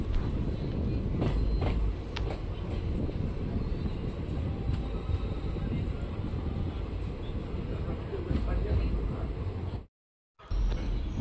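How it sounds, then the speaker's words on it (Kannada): A passenger train on the Chitradurga–Tirupati route rolls into Molakalmuru railway station with a steady, loud rumble of wheels and carriage noise, cut by a brief dropout to near silence near the end. "ನಮ್ಮ ಟ್ರೈನ್ ಈಗ ಮೊಳಕಾಲ್ಮೂರು ರೈಲ್ವೆ ಸ್ಟೇಷನ್ಗೆ ಎಂಟ್ರಿ ಆಗ್ತಿದೆ"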